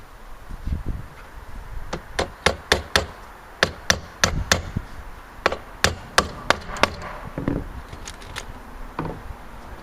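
Sharp hammer blows drive nails into wood while building shed doors, in quick bursts of several hits each, separated by short pauses, loud and close, with light background noise between.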